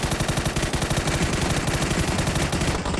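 Sustained rapid automatic gunfire in a multiplayer shooter match, a dense loud rattling burst that runs unbroken for about three seconds before cutting off.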